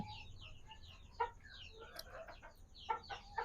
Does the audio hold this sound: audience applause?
no